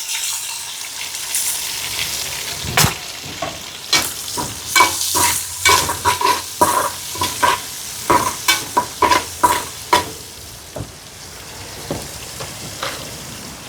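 Onions, curry leaves, ginger and green chili fry and sizzle in a pan, with a steady hiss broken by repeated sharp scraping stir strokes clustered in the middle, up close and without speech.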